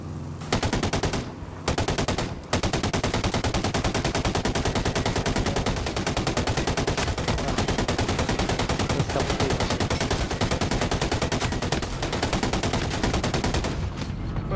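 Sustained automatic gunfire from the video game Ghost Recon Breakpoint, dense and loud rapid bursts filling almost the whole stretch with only brief gaps near the start.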